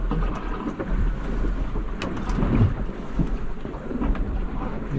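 A sailboat with its genoa partly out ploughs through ocean swells on a passage from Marsden Point, Whangarei, to Kawau Island. A loud, steady rush of wind and water fills the clip, with heavy low rumble and occasional surges.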